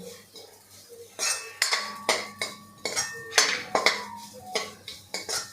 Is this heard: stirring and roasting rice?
yes